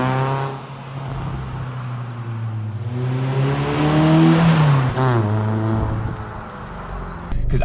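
Car fitted with a full Milltek non-resonated exhaust, 4-1 manifold and sports cat, its engine droning loudly and rising in pitch through a rev before dropping back, steady and close throughout.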